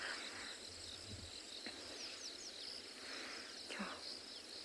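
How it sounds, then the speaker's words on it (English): Insects chirping and trilling at sunrise after rain on a safari, a steady high buzz with scattered bird calls layered over it, moderately faint and continuous. "You can hear all the insects starting to wake up as well."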